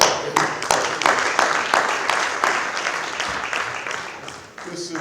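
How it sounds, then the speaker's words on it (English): Conference audience at a closing plenary clapping hands together in a steady rhythm, fairly loud and filling the room, fading slightly toward the end. "let's give a hand clap"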